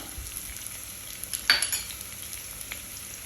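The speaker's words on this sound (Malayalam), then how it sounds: "കരുവേപ്പില ഇതൊക്കെ കൂടെ നന്നായിട്ട് ഒന്ന് സോട്ട് ചെയ്യുക" Green chillies and curry leaves sautéing in a pan for green apple pickle give a steady, close, soft sizzle, with a single scrape of a stirring utensil midway.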